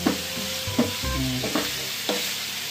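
Chicken for ginataang manok sautéing in a pan: a steady sizzle with repeated scraping stir strokes and clanks of the utensil against the pan, close up and with no voices.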